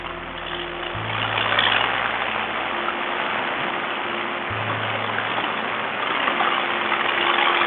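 Paramotor engine without a clutch running with its propeller spinning during flight, with a faulty kill switch: a steady droning motor whose pitch shifts in steps, over a broad rush of wind, with no talking.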